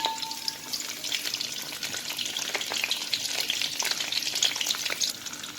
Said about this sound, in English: While it's frying for a few seconds